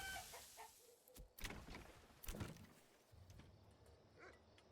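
Chickens clucking in the medieval city-builder game Manor Lords, a few short scattered clucks and squawks over a quiet ambient background, fairly faint.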